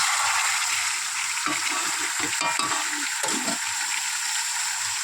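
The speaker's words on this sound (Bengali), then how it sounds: "এই যে কষছি এখনও মাংসটা" Meat being sautéed (kosha) dry in a pan before any water is added, a steady close sizzle with soft scraping stir strokes in the middle, no talk.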